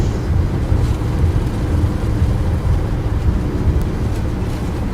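A steady, loud roar of thrust reversers runs without a break as a PMDG 737-800 of Norwegian lands in Microsoft Flight Simulator 2020, a broad continuous rumble with no voices over it.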